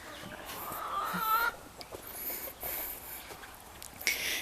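A rooster and hens on a homestead cluck softly in short scattered calls, with a few sharper squawks among quiet rustling and background noise.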